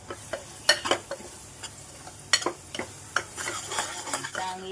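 An onion, coconut, chili and coriander masala paste is sautéed in oil, with a soft sizzle beneath irregular clicks and scrapes of a spoon stirring against the pan.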